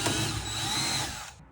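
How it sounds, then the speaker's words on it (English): Power drill boring holes through the hood of a 2024 Mustang GT while fitting an aftermarket hood, a steady close whine running unbroken for over a second before cutting off. "Take your time with the clips, take your time drilling the holes,"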